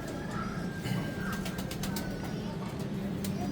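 Pigeons coo softly under a steady background hiss, with a few brief flutters and faint chirps scattered through the clip.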